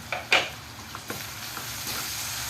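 Chopped onion, already fried golden brown, sizzles in a pan with freshly added tomato for an eggplant bharta, giving a soft steady hiss broken by a few scraping stirs of a spoon, fairly faint.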